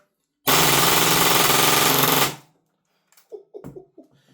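An airsoft Glock pistol on an HPA adapter fires a shot shell in one loud, dense burst lasting nearly two seconds, which then cuts off. A few brief clattering handling noises follow.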